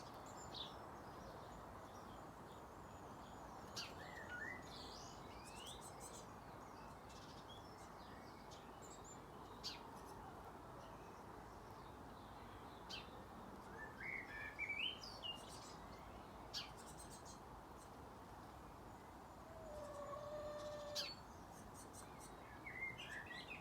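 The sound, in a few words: great tits singing in the garden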